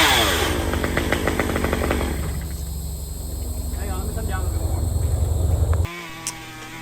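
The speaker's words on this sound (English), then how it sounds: "Oh, yeah, there we go. Chainsaw." A chainsaw cuts a dead tree branch that supports a treehouse: a loud, steady buzzing engine drone that wavers in pitch, then cuts off abruptly near the end, leaving quieter ambience.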